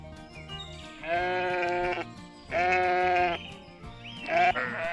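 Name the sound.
sheep bleating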